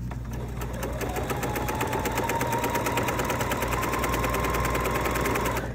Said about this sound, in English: then I just flip that around to the other side and top stitch it on